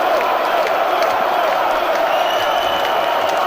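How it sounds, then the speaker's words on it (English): A large wrestling-show crowd cheers and whoops loudly and continuously, with scattered clapping and shouts, a dense roar filling the whole moment. "Listen to this crowd."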